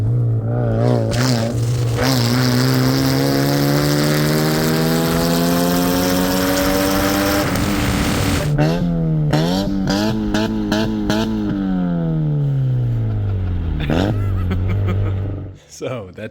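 A junk $395 Chevy Aveo with no roof or wipers on a test drive, its engine droning loudly and steadily with rising revs, then shifting and revving up and down close by before cutting out near the end.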